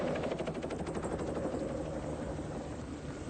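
A helicopter in Malta roars close by, its rotor beating in a fast steady chop over a continuous loud whooshing engine drone that fills the whole stretch.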